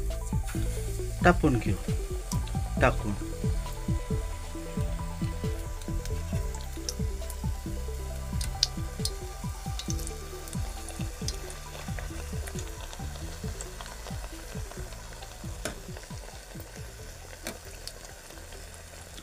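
Battered taro leaf bhaji slipped into hot oil sizzle loudly at first, then settle into a steady frying crackle with occasional pops and stirring, while someone talks briefly.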